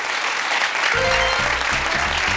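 Studio audience applause on a Turkish television quiz show, a dense burst of clapping throughout, with a presenter speaking over it.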